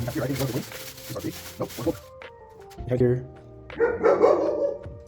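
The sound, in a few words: dog barking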